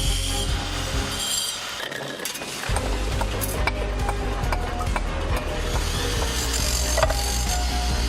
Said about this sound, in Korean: 철사로 길이와 각을 그대로 본떠 그 본에 맞춰 돌을 잘라 붙입니다.